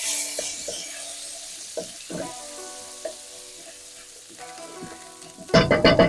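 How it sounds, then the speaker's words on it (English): Garlic hitting hot oil in a pan for a spring roll filling, with faint sizzle and scattered stirring clinks before a loud, bright burst of frying near the end. "wait till it gets nice and hot, and we're going to go in again with the garlic straight away. Mix that round."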